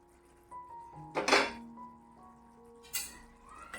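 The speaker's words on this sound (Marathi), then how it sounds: "आता आपण झाकण काढून बघूया" A metal lid lifts off a cooking pot of sprouted green moong sabzi, a couple of clear clinks with a lingering metallic ring in a quiet kitchen.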